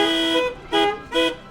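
Car horns honking as part of a street horn symphony with local horn players: three sustained blasts in a row, loud and close, the first longest, the others short and evenly spaced.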